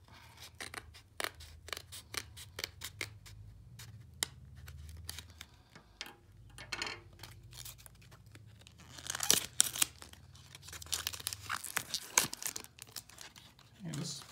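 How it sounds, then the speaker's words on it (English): Pokémon card pack wrapper being ripped open by hand, a run of sharp crinkling and tearing crackles in bursts, close up, with speech heard at moments. "I'm just gonna rip it just for so that we can speed up the video a little bit"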